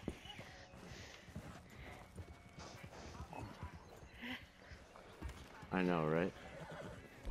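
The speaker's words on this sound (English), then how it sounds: "Two white horses." Horses in a video game, a wagon drawn by two white horses heading around a mountain, clip-clop along under steady talk, with one loud, close whinny near the end.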